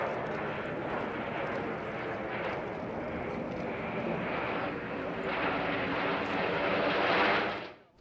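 Six Polish TS-11 Iskra jet trainers in an air show display roar past in a continuous, broad, loud rush of engine noise that swells toward the end and then fades.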